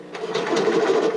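Sawzall reciprocating saw cutting through a drag car's body, a steady buzzing rasp with rapid rhythmic strokes, close and fairly loud, running continuously without talk.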